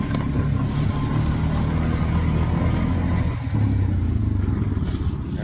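A model 76 farm tractor engine runs steadily at a loud, close, continuous drone with a slight dip midway, alone without talk.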